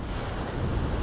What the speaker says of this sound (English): waiting for the waves just to break around those rocks